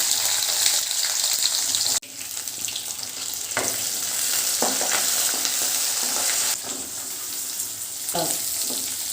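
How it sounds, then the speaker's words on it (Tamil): Garlic and onion sautéing in a hot pan, a steady close sizzle broken by several scraping stirs, loud throughout with no talk over it. "பூண்டும் வெங்காயமும் வந்து நல்லா வதங்கணும்."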